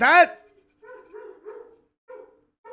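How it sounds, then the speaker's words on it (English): A dog barks repeatedly at a moderate distance, short separate woofs spaced unevenly, with one sharper yelp at the start. "What is he still barking at?"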